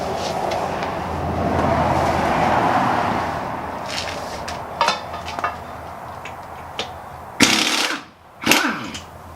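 A pneumatic impact gun running at 90 psi removes wheel lug nuts during winter car maintenance, with bursts of loud rattling hammering, a long steady whir of air and machinery, and a couple of sharp final blasts near the end.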